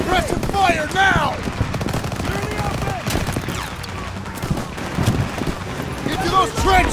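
Suppressive gunfire in the World War II shooter Call of Duty WWII, with rapid machine-gun bursts and rifle shots crackling continuously over a loud battlefield din. Voices shout over the shooting.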